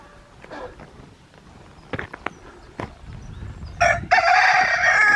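Outdoors among a few chickens of different varieties near Elterwater, a rooster lets out a loud crow near the end, preceded by scattered clucks, footsteps and rustling.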